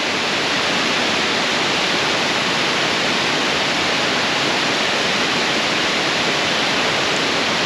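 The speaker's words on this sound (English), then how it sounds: "here we are at the main Gooseberry Falls" Steady, dense roar of Gooseberry Falls, Minnesota, at low flow, broadband and constant throughout, with no voices or breaks.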